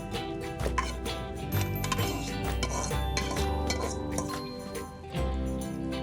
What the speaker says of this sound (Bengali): এরপর আমরা এখন মাংসগুলো উপরে ঢেলে দিব।